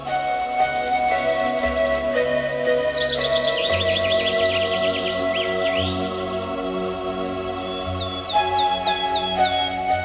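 Jungle birds of paradise calling alone: a dense, continuous chorus of bright chirps, whistles and repeated rising calls over a steady insect hum, close and fairly loud throughout.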